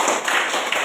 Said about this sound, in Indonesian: Oke, tepuk tangan dulu untuk KSI.